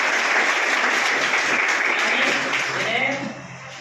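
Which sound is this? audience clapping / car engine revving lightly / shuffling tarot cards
audience clapping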